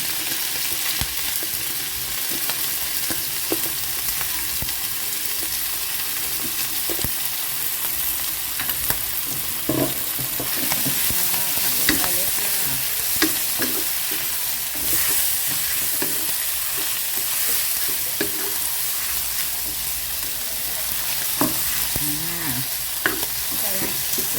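Shelled surf clams are poured into a hot pan and stir-fried with chili curry paste, giving a steady loud sizzle with scraping stir strokes and clatter throughout, no talking.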